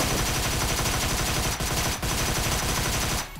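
Unsuppressed Scorpion machine pistol in PUBG Mobile firing a loud, continuous rapid-fire burst of crisp gunshots, with two brief gaps before it stops.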